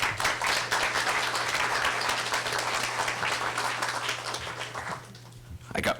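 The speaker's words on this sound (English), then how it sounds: "I got most of them while you're clapping" Audience applause at a swearing-in ceremony, steady dense clapping from a sizeable crowd that holds loud and even for about five seconds, then thins and tapers near the end.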